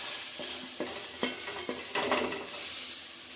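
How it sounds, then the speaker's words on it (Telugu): Onions fry in a pan for fish curry masala, a steady close sizzle broken by several sharp scraping stirs of a spoon against the pan. "సో ఒక 2 minutes ఫ్రై చేసేసుకుందాం."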